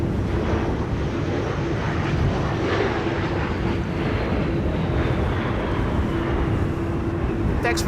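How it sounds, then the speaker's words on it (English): Broad, steady airliner roar from a KLM jet landing at Amsterdam Schiphol in stormy wind, with gusting rumble and a constant engine hum throughout, fairly loud and continuous. "Textbook landing, as if there is no wind at all."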